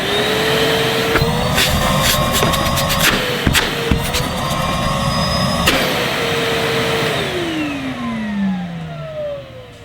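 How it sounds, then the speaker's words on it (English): A Numatic Hetty Xtend vacuum cleaner, running for the first time, gives a loud steady motor whine with clunks and bumps, its pitch rising and falling before winding down as it is switched off. "Okay, Hetty, it's time to be switched on for the first time."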